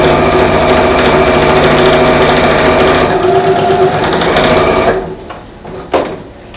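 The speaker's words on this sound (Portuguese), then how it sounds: "Vou costurar toda a parte de baixo." A sewing machine stitches along the bottom edge of a fabric pouch for a pleated school pencil case, giving a steady, fairly loud whirring hum for about five seconds before stopping, followed by faint handling noise and a brief knock.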